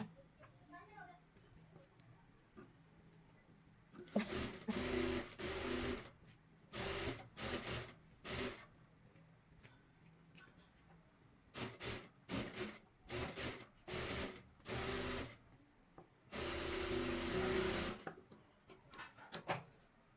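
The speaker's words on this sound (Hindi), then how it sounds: "इसमें भी हम टॉप सिलाई लगा के सेट करेंगे" Sewing machine top-stitching a readymade broad neck, running in short bursts with pauses between them, close and fairly loud, with a quieter stretch of handling noise at the start.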